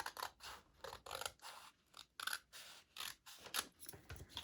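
Scissors snip through paper for a Valentine card and basket craft, a run of quick, crisp cuts in an uneven rhythm, close and fairly quiet with short pauses between strokes.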